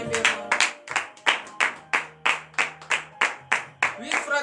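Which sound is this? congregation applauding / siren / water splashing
congregation applauding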